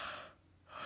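A narrator's voice imitating a wolf waking up and yawning in a Little Red Riding Hood story: a single breathy gasp-like inhale and exhale, close and soft, with no words.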